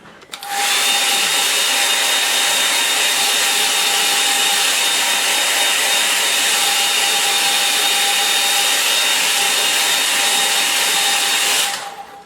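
A hair dryer blows steadily over a drying watercolour painting, a loud close rushing whoosh with a constant motor whine, switching on, running evenly for about eleven seconds, then cutting off.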